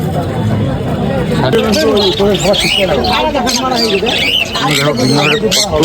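Pigeons at a crowded bird market, cooing and chirping close by amid a loud, busy babble of many people talking.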